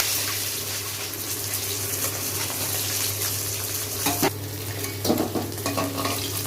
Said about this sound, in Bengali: আপনারা অল্প অল্প করে মাছ কড়াইতে ভেজে নেবেন, পারলে কড়াটা ভালোভাবে গনগনে হলে তবেই মাছ ভাজবে।